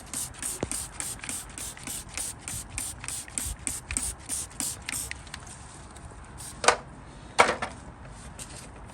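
A trigger sprayer spritzes degreaser onto Triumph Daytona motorcycle parts in a rapid series of short hissing bursts, then pauses before two longer, louder sprays near the end.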